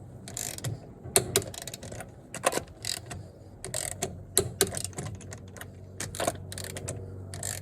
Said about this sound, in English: torquing up the wheels to 130 Newton meters in a star pattern